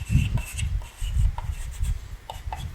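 Writing on a board during an integral lesson, with short scratchy strokes and soft tapping in uneven bursts, heard close and moderately loud.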